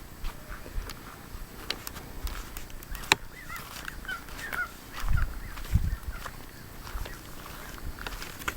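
Ducks calling in a garden in midsummer, with scattered squawks and quacks at moderate distance over outdoor background noise and a few thumps.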